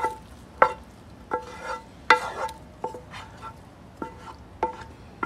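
Butter being scraped from a pan into a crab stuffing mixture, a series of sharp spoon-on-metal scrapes and clinks spaced irregularly, close and moderately loud, with a quiet hiss beneath.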